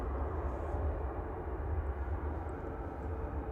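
An Etihad Airbus A380 departing Manchester Airport at full power in the evening, a heavy, steady low engine roar with broadband rumble filling the air, fairly distant and sustained throughout, with no talk.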